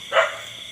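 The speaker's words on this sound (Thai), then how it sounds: "หมา เห่าดีเออ" A dog gives a single short bark, moderately close and alone, outdoors at a temple during house repair work.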